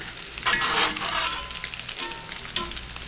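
Salmon fish cakes containing egg sizzle and crackle in hot oil in a pan, a steady bright frying hiss that swells briefly near the start, with no talking.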